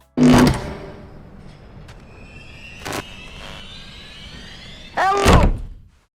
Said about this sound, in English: Charlie shuts the door on him before he can even say a word